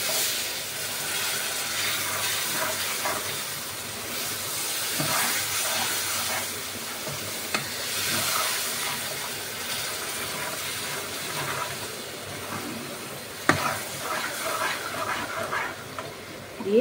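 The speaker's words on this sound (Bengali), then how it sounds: "এবারে এর মধ্যে গরম জল দেবো," Hot water poured into melted sugar in a pan for kada prasad, giving a steady steamy hiss and bubbling with faint scraping clatters, brief sharper knocks near the end.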